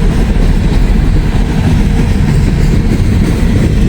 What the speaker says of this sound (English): It's just an intermodal train.